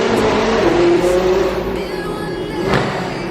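A 900hp McLaren engine roars loud and close on a tunnel run, holding a dense, sustained drone with a rising whine that swells again near the end.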